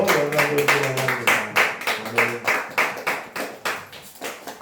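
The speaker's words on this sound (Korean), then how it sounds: "우리 박수로 영광 돌리기 원합니다" Church congregation clapping together at a Sunday worship service, a steady rhythmic beat of hand claps about twice a second, with a sustained sung or spoken tone underneath early on.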